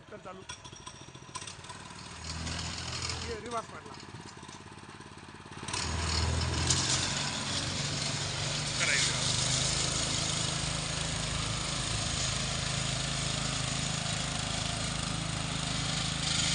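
The engine of a self-propelled orchard sprayer in an orange and sweet-lime orchard kicks up partway through and then runs steadily and loudly. Voices talk over it.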